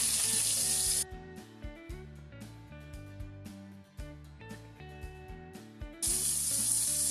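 Matambre beef sizzles in a hot pan after a splash of lemon juice, with loud hissing bursts at the start and end and softer crackling and pan clatter between them, close and without speech.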